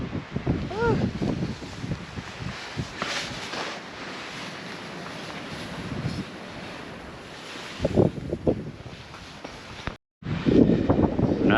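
Wind gusts roar across a microphone near the top of a fire tower on a Vermont trail, loud buffeting rumbles rising and falling, with a brief exclamation and a few short voiced sounds.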